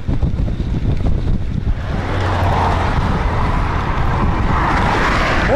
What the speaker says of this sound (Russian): Давно я не ездил в такой сильный ветер.